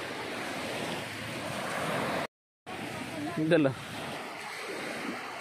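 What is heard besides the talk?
sea waves at the beach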